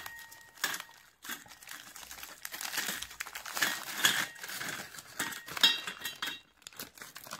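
A Parle-G Oats and Berries biscuit packet is torn and opened by hand, giving close, crisp crinkling and rustling of the plastic wrapper in irregular bursts, with brief pauses between handling.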